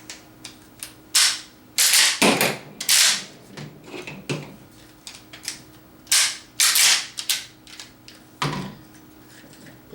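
Tanaka M1897 gas airsoft shotgun worked by hand, with sharp clacks of the pump action racking between loud, hissing gas-powered shots, several cycles in a row, close and with no talking.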